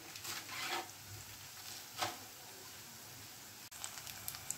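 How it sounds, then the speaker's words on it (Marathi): Onion and garlic frying slowly over a low gas flame, a faint, steady, soft sizzle with a few brief crackling bursts throughout. "म्हणून असा मंद गॅसवर परतून घ्यायचा लालसर होईपर्यंत"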